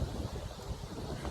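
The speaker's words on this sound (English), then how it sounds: "it's a little windy" Wind blows outdoors in a continuous rushing roar that buffets the microphone, loud and unbroken throughout with no clear talk.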